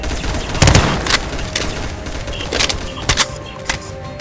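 Video game gunfire: loud, close bursts of shots fired in quick succession with irregular spacing, mixed with thumps and layered game effects, without speech.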